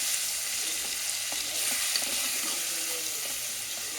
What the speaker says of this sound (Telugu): ఇది ఉప్పు కారంలో బాగా వేగాలన్నమాట 5 నిమిషాలు.